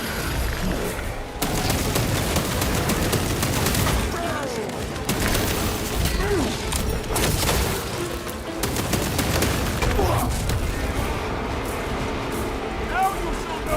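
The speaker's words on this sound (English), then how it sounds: "Throwing frag grenade!" Repeated booms and rapid gunfire from a frag grenade and weapons in Warhammer 40,000: Space Marine 2, loud and continuous through a chaotic battle, with voices shouting over the din.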